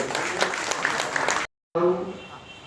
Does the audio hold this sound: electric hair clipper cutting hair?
no